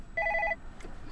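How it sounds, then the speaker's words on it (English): A telephone rings with a short electronic trill, a single burst of rapid warbling beeps that stops abruptly, heard close in a quiet indoor room without any talking. "Your phone is ringing."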